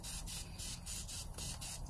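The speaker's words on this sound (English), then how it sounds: "I'm going to go ahead and get some of the grill spray on our grill grate" Grill spray hisses in repeated short bursts onto the grate of a Weber Summit charcoal grill, a steady close airy rush pulsing roughly every quarter second over a low background rumble.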